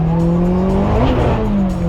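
Loud aftermarket exhaust on a Mitsubishi Evo droning close up, a heavy continuous engine tone with shifting pitch as the revs change, filling the whole brief moment.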